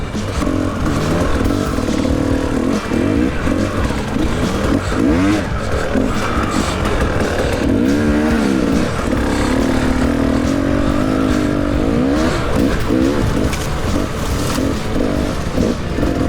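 Enduro motorcycle riding off-road, its engine loud and close throughout, revving up and down over rough terrain with rattles and scrapes mixed in, no talk.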